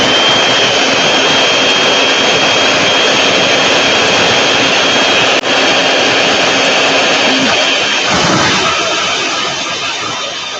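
A loud, steady power tool grinds through hard grade 12 steel studs, with a continuous high whine and roar for about ten seconds, one brief dip midway and a slight fade at the end.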